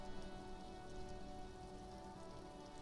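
Steady rain falls throughout a scene in the video game Disco Elysium, a dense, even hiss of drops on surfaces that holds constant at moderate level with no voices.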